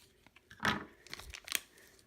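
Plastic packaging around cheap 3-inch speakers is cut open, giving a few quiet crinkling snips and rustles, with two sharper crackling bursts in the middle and near the end, close and faint.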